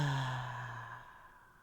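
One long, deep exhale from a breathing exercise, close and soft, starting with a gentle hum and fading smoothly to quiet.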